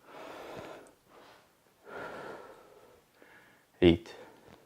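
Deep breaths during a home fat-loss workout, a few slow audible inhales and exhales spaced across the clip, close and fairly soft, with a sharper snort-like breath near the end.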